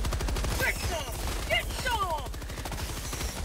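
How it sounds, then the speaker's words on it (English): Sustained rapid machine gun fire in the video game Helldivers 2, a dense continuous rattle of shots with whistling effects layered over it, loud and unbroken throughout. "Let's get on this machine gun as well."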